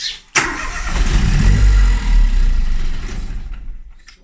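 A boosted Mini's engine, with misfires and old fuel in the injectors, cranks briefly, then catches and roars to life, running loudly and steadily before settling down toward the end.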